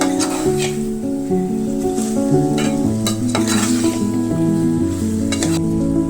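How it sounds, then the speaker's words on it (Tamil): Tomatoes and green chilies sauté in hot oil, a steady sizzle broken by repeated scraping stirs of a spoon against the pan, close and continuous with no talking. "தக்காளி பச்சை மிளகாய் ரெண்டுமே சேர்த்து இந்த எண்ணெயிலே நல்லா வதக்கணும்"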